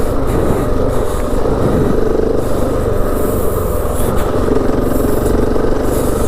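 A KTM 690 motorcycle riding over sandy desert whoops in the Simpson Desert gives a loud, steady engine drone mixed with heavy wind rush, continuous and close throughout.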